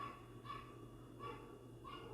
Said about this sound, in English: There's always this dog, y'all, that barks like this, and it sounds like those plush toys